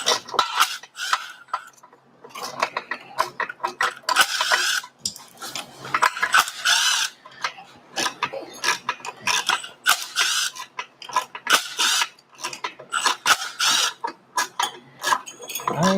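Metallic clicking and ratcheting as a torque wrench tightens intake bolts on a twin-turbo 4200 Datsun engine, irregular bursts of close clatter and creaks with short pauses.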